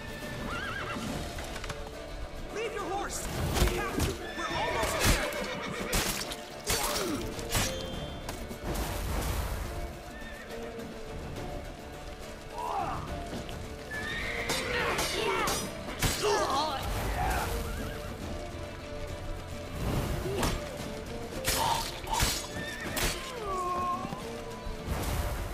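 A horse in The Witcher 3 whinnies and clip-clops along at a steady gallop, with crashes and thwacks from combat mixed in and voices talking over the game sounds throughout.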